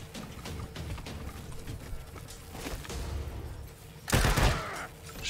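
Gunfire in the Wasteland 3 video game: scattered shots crackle through a busy battle bed, then a loud, dense burst erupts near the end before tapering off.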